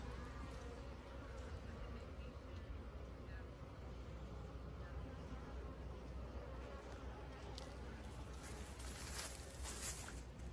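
Honey bees buzz around an open hive during a spring inspection in South Florida, making a constant low, dense hum that fills the scene, with occasional faint handling noises.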